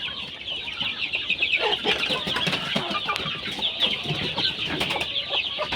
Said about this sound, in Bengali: দেখেন এখানে কিছু সাদা মোরগ এবং সাদা মুরগিও আছে